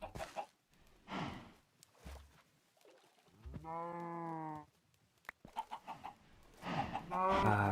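Chickens in a video game give a short squawking call in the middle, surrounded by scattered clucks and other game noises.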